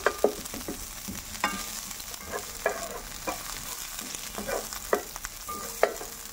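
White onion frying in a pan, a soft steady sizzle with occasional clicks and scrapes of stirring, close and fairly quiet.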